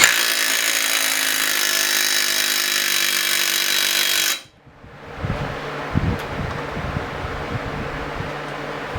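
A cordless impact wrench, Snap-on, Milwaukee or DeWalt, runs in one long continuous buzzing burst, then cuts off abruptly, followed by clanking and handling noises close by.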